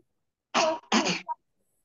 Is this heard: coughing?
yes